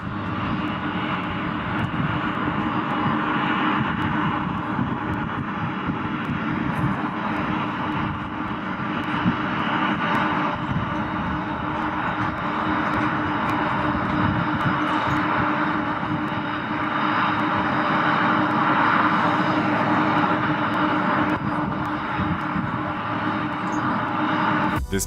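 An airplane that lost one of its tires after landing: a steady, loud engine roar holds without a break for the whole stretch, with no voices.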